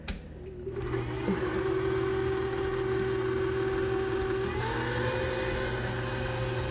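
A stand mixer whirs steadily on its stir setting for English muffin bread dough, a constant motor hum that holds level and then shifts slightly in pitch near the end, with no voices.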